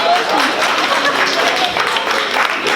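An audience at a panel talk on the science of language applauds, a steady wash of clapping at moderate loudness with faint voices mixed in.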